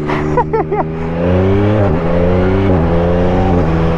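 A 2022 Yamaha MT-09 A2 motorcycle engine revs hard and climbs through quick, clipped quickshifter gear shifts, loud and close, with brief dips at each shift.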